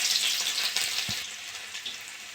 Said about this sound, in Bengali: ফোড়নটা ভাজা হয়ে গেছে, আমি এবার রসুন দিয়ে দেবো